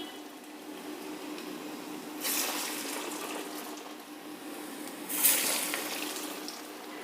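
Black-eyed pea vadas are dropped into hot oil to fry, giving two separate bursts of hissing sizzle a few seconds apart that each fade slowly, over a quiet kitchen background.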